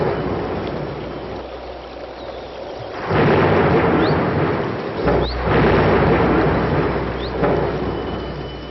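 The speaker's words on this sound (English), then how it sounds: "there came a severe storm. The Buddha was lost in deep meditation when the sky darkened and it rained the whole week." Heavy rain pours steadily with rumbling thunder from a severe storm, the downpour swelling loud around three seconds in and continuing to roar with occasional cracks and deep rolls, no voices present.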